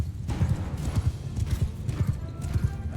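Horses gallop in a Mount & Blade 2 battle, a fast steady clip-clop of many hooves, fairly close and continuous, with a faint background wash and no talking.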